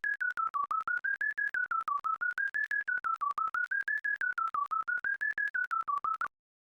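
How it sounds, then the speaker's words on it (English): Modular synth tone from a TouchDesigner audio generator: a rapid, evenly pulsed electronic beep whose pitch slowly wavers up and down, repeating steadily for about six seconds before stopping abruptly. "The audio generator gives you a modular synth environment where you can create sounds and"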